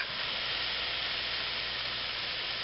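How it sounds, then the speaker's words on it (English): Drained spaghetti going back into a hot pan, heard as a steady, even hiss of sizzling steam at moderate level with no voices. "I'll dump it out of the strainer back into the pan."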